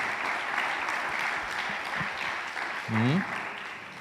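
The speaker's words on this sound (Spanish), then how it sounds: "Un aplauso a ellos, hermanos, gracias por ayudarme." Church congregation gives a round of applause, a moderate spread of many hands clapping at a steady pace, with a voice briefly rising over it near the end.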